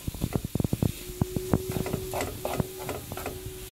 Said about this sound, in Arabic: وغادي نشحر هاد الطريفات ديال الدجاج مزيان